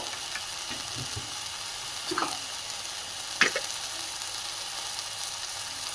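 Fenugreek leaves for sambar frying in a pan, a steady close sizzle throughout, with a few scraping stirs of a spoon against the pan around the middle, no talk.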